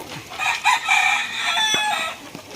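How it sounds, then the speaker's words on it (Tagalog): Chickens cluck and a rooster crows close by in a short burst of overlapping fowl sounds during a storm, with no voices. "kaya kain pa rin ang mga manok"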